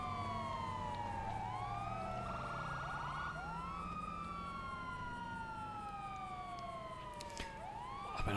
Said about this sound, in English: The sirens are dissipating, which is good.